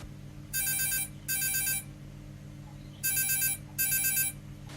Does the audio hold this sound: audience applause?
no